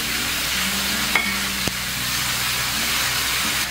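Chicken thigh with chili and green Sichuan pepper stir-frying in a wok with sauce, a constant loud sizzle with a couple of sharp utensil clinks, close up and without speech.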